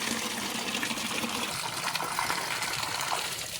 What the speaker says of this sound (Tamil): இப்போ நான் எல்லா செடியிலையும் தூரில் மட்டும் நான் ஊற்றி விட்டுருவேன்